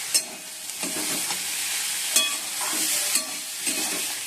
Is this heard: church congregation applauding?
no